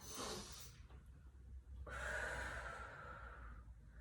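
A sharp inhale taken during a yoga stretch while pushing the hips back, a close breathy rush of air that rises and lingers for a couple of seconds after a shorter breath sound, alone without talk.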